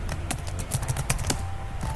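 Computer keyboard keys clatter in quick, uneven bursts of clicks, close and fairly loud, as a command is typed into a Linux shell.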